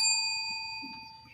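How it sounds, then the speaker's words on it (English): A small hand bell struck once with a bright, ringing ding that decays slowly over about a second in a quiet indoor room. "We have a bell you can ring."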